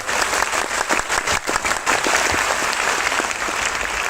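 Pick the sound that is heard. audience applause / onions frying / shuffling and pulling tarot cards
audience applause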